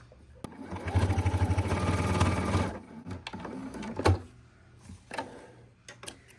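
Sewing machine running a steady back stitch along the edge of a small four-patch fabric coaster, a loud continuous whir of about two seconds followed by quieter stops, restarts and brief clicks.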